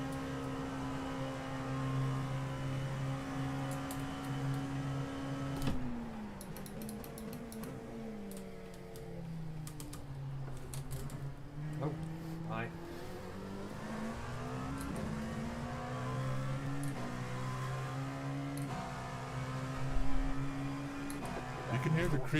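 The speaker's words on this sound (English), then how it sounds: "You can hear the creaking at about the same volume as the shifters." In a racing video game at Spa, the car's engine drones and rises and falls in pitch through several gear changes. Faint clicky shifter ticks and creaking sounds sit at a similar low level, and a voice speaks briefly.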